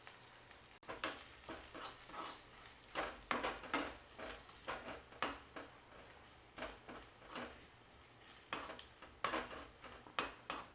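Lightly crushed garlic sautéing in a hot pan alongside ginger, a close, crackling sizzle broken by repeated sharp scrapes and stirring clicks of a spoon against the pan.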